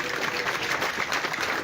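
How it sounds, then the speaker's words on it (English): An audience claps for a panel at a political manifesto session at Makerere-Kavule, a steady dense patter of many hands sustained evenly throughout the short stretch. "I'll ask each of us to clap for our able panel"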